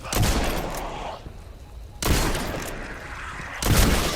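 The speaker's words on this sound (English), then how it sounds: "The recoil is bananas on most of these shotguns" Shotguns fire in the video game Destiny, three loud booming blasts about two seconds apart, each with a sharp attack and a long ringing decay into quieter background.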